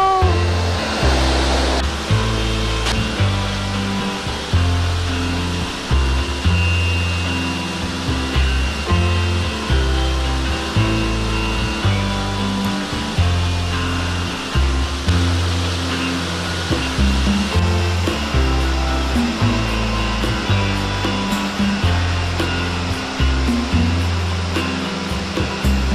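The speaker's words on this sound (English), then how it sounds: "There's your waterfall!" A waterfall in Cliff Gilker Park on the Sunshine Coast, BC, pours as a loud, steady broadband rush of falling water that fills the whole scene without pause.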